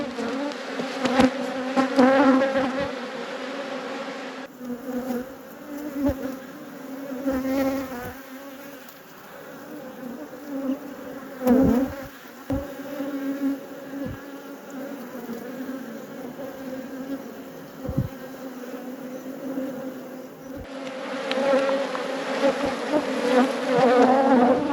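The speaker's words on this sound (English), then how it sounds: "Lots and lots and lots of new bees." A dense, steady buzz of many honey bees at an open hive close by, rising and falling in intensity with no voices.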